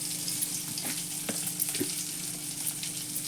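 A spiced potato vegetable filling with chilli, turmeric and salt fries in a pan, giving a steady close sizzle with occasional soft stirring scrapes and no talk.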